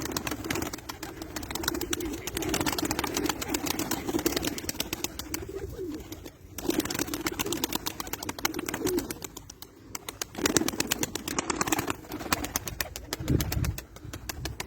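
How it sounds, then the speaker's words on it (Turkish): White Istanbul pigeons coo and murmur steadily up close in a coop, with occasional wing flaps and shuffling, a busy flock calling continuously throughout. "Beyaz İstanbul güvercinin kümesleri kümesindeki kuşlar bunlar"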